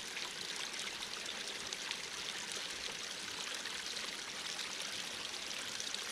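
Water rushes steadily through clogged drainage pipes after a beaver dam is removed, a constant even flow with no pauses.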